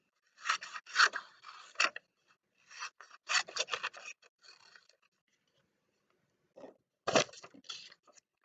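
Scissors cutting a capital letter Q out of paper: several rasping snip bursts in quick clusters, separated by short silences, close and fairly quiet.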